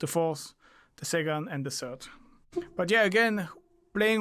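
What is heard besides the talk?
None of the usual background noises is heard.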